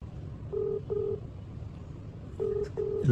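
Four short telephone keypad tones beep for a prank call, two quick ones, a pause, then two more, clear over low room noise.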